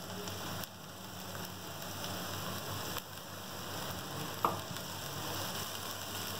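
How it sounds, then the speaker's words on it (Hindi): Spring onion greens sizzle steadily in a hot pan, a continuous close crackle with a single brief clink partway through. "थोड़ा सा फ्राई करेंगे"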